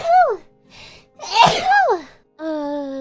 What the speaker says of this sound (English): those were intense sneezes